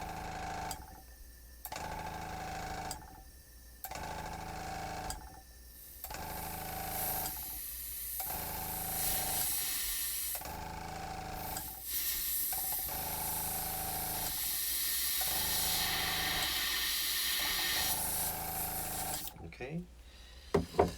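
An airbrush sprays paint onto a beaver diorama in repeated short bursts of steady hiss, each about a second long with brief gaps, before a longer continuous spray that ends in a few clicks.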